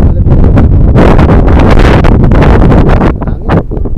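Loud, buffeting wind gusts roar into the microphone continuously, with rumbling low bursts and no clear voices.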